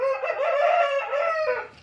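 A fighter rooster crows close by in one loud, sustained call of nearly two seconds that tapers off at the end, with no other sound over it.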